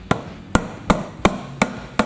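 A hammer gently taps the engine cover of a Kohler Courage engine, six sharp metallic knocks spaced evenly about a third of a second apart, close and clear with no talking.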